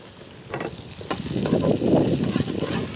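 Ginger, garlic and onion sizzle in hot oil in a pan, a steady crackling fry that builds and thickens, with a few stirring clinks near the start.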